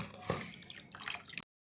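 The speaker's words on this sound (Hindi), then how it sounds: "आपने नूडल निकालें तो इस पर ठंडा पानी आपने ऐड करना है" Cold water splashing and dripping over freshly boiled spaghetti noodles in a kitchen, a short burst of pouring and trickling that cuts off abruptly, close and moderately loud, with no one talking.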